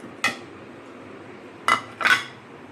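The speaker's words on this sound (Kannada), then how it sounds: "ಇದನ್ನು ಇವಾಗ ಮಿಕ್ಸಿಗೆ ಹಾಕ್ಕೊಳ್ಳೋಣ" A few sharp clinks ring out as pieces of ginger, cinnamon and cloves are dropped into a metal mixer jar in a home kitchen: one knock, a pause, then two quick knocks close together.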